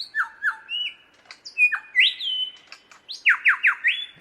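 A lyrebird imitating a shrike thrush: a fluid series of whistled notes, clear and nearby, with sliding downward phrases and quick repeated swoops, no voices.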